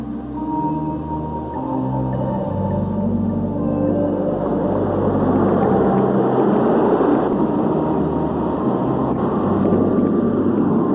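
Display team jet aircraft taxiing out for takeoff, a steady loud turbine whine and rumble with tonal engine hum that swells and roughens partway through, continuous and close, with no talk.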